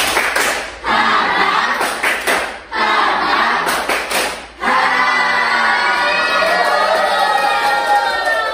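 An elementary school class performs the rhythmic tepuk semangat spirit clap together, bursts of loud group clapping broken by short pauses, then a sustained stretch of quick massed clapping and crowd noise.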